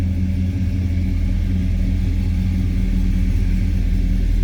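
A 1968 AMC Ambassador's 343 V8 idling after a cold start warm-up, a steady low rumble with an even, throbbing pulse, close and unchanging throughout.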